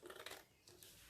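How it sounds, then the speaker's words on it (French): Paper being cut with a pair of scissors during a home craft project, a few quick close snips forming a short bursty rustle, with no talk. "Vous prenez votre paire de ciseaux"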